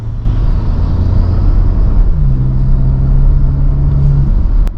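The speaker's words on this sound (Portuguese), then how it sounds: "esse carro tem som de turbina quando você pisa" A Renault Kardian accelerates with a loud, steady engine drone. A rising turbo whine emerges partway through and holds before fading, with no talk.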